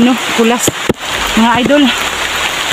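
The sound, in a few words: heavy rain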